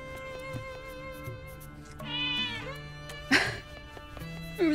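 Cats in the video game Zelda: Echoes of Wisdom let out a couple of short, thin meows amid soft game music and small interface blips, one sharper chirp standing out near the end.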